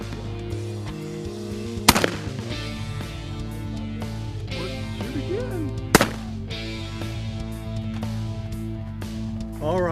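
Shotgun blasts while dove hunting in an open field, two sharp loud reports several seconds apart over a steady background hum.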